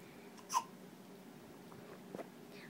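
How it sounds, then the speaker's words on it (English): Baby hiccups, one short faint hiccup early and another soft catch later, over quiet room background. "You got the hiccups?"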